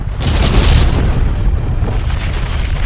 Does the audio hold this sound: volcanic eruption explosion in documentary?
yes